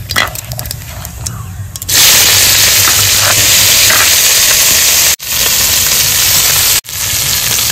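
Chopped onions and onion greens hit hot mustard oil with whole cumin, bursting into a loud, steady sizzle that fills the clip after a quieter start, broken by two brief gaps.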